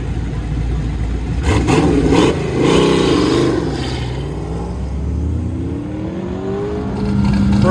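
A Speedway Cobra Tribute car runs an autocross course at the Goodguys Southwest Nationals in Scottsdale, Arizona, its engine revving up and easing off repeatedly as it accelerates between turns, loud and fairly close.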